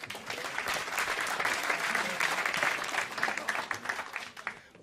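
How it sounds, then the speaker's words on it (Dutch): Sustained audience applause on a Dutch talk show set, dense steady clapping from a studio crowd filling the whole stretch with a few louder swells. "Dames en heren, nog even applaus voor Jantien de Boer."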